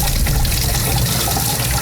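Aquarium parts being rinsed under a steady stream of running water, a loud, continuous splashing hiss close by with no break.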